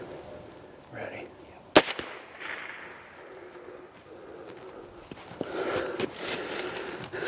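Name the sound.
gunshot at a whitetail buck while hunting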